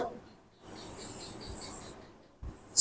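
Someone hand-writes the Arabic letter alif, producing one steady, scratchy stroke of about a second across paper, then a short pause and the start of another light scrape, close and otherwise quiet.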